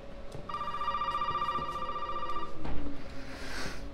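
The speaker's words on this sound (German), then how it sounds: "Das Telefon." A telephone rings in a steady electronic tone for about two seconds in the horror video game Resident Evil 7, amid quiet ambient game sounds and a few soft knocks.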